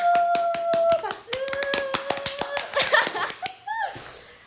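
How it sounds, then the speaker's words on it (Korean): Sharp hand claps and taps in a small studio during a K-pop idol radio show, a quick irregular burst mixed with voices, brief tonal calls and a little laughter. "박수."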